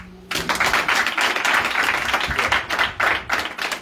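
Nearby group of people clapping, with uneven, choppy bursts of hand claps that swell and dip in clusters after a short quiet opening, fairly loud and close, with no speech over it.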